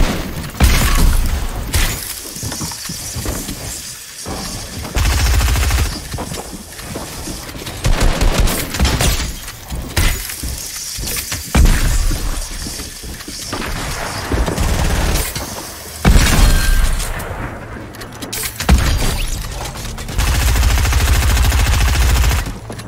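Drum gun firing in a Fortnite-style battle royale shooter: long, loud, rapid automatic bursts of fire, separated by brief pauses and layered with impacts and shattering debris.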